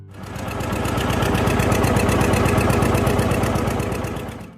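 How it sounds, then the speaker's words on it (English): A John Deere 70 Diesel tractor engine runs steadily with a fast, even rhythmic chug, loud and close, fading in and out at the edges with no voices. "Number 7, the John Deere 70 Diesel."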